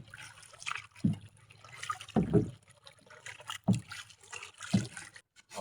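Seawater splashing and sloshing against a small fishing boat out on the open sea, in a few distinct knocks and splashes with quieter lapping water between them.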